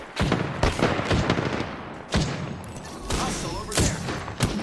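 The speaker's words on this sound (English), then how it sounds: "They're shooting at me." Video game enemies fire at the player in repeated bursts of rapid gunshots, loud and close, with sharp cracks breaking up stretches of continuous shooting.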